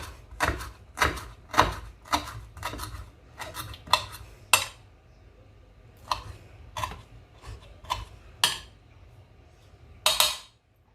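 Knife cutting food on a board in a home kitchen, sharp distinct chops in an uneven rhythm, close and clear, some in quick clusters and others spaced apart.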